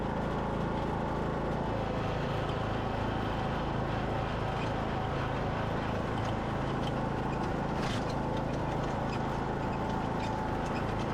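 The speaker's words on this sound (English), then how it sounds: "my tractor struggled to pull the core aerator up the hill in my backyard" A lawn tractor towing a core aerator uphill through a backyard, its engine a steady, continuous drone at moderate distance with no talk over it.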